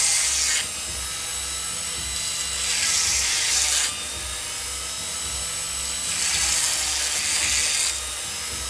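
A high-pitched rotary tool drills into septarian stone, whining loudly and continuously with two longer bursts of heavier grinding as the bit bites into the rock, close up and without talk.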